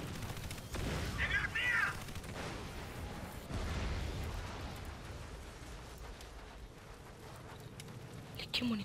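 Explosions and gunfire from the video game Crysis Warhead, a run of booming blasts and crackling bursts of shots with a loud impact near the start, heard under a quiet background mix.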